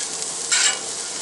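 Sliced onions fry slowly on a Blackstone flat-top griddle for jalapeno onion smash burgers, giving a steady, close, bright sizzling hiss that swells briefly midway.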